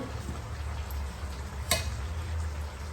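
Fish frying in hot oil in a pan, with a steady close sizzle running throughout, a brief sharper crackle or clatter near the middle, and no voices.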